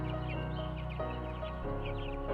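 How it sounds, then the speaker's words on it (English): Chicken clucking in a farmyard, several short soft calls over a steady low hum of background noise, moderately close but quiet, with no talking. "Chicken? Silly chicken."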